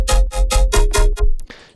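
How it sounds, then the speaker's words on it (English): Serum FM wavetable synth patch, a wavetable frequency-modulated by a sine wave with an LFO sweeping wavetable position, for a melodic dubstep drop: six rhythmic, loud, bright pulsing stabs, then a fading noisy tail. "it's just a FM wavetable getting FM'd by a sine wave"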